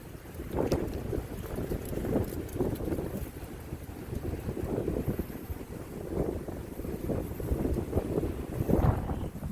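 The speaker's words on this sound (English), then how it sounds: "we got a windy day, it just blew my camera down." Wind buffets the microphone in a continuous low rumble that swells and gusts throughout, with no voices.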